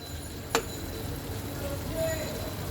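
Pointed gourd (potol) dopiyaza sautéing in a pan on low heat makes a soft, continuous sizzle with one sharp utensil tick near the start, and a voice may be faintly present.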